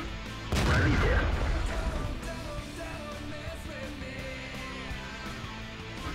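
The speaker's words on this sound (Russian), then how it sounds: "Рикошет." Gunfire and a shell ricochet in a tank battle video game: a loud sharp boom with a rolling rumble tail, then quieter distant battle noise that continues to the end.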